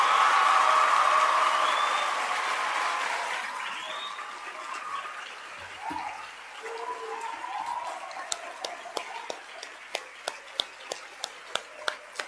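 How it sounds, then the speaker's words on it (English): An audience at a school prizegiving for seniors claps, loud dense applause at first that thins out over several seconds into scattered individual claps, with a few distinct hand claps and brief murmurs at the end. "Please give them all another round of applause."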